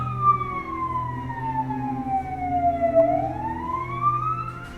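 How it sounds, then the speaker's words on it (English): A police car siren wails in long rising and falling sweeps over a low vehicle rumble, sounding fairly close and steady. "We hear the sound of a police siren carrying 2 young women to Corona State Prison."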